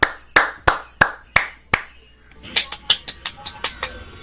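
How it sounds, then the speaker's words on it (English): Applause sound effect in the video game Worms: Revolution: a handful of sharp, evenly spaced claps, then a denser burst of quicker claps, loud and isolated with no talking. "Give him a break. Give him a round of applause."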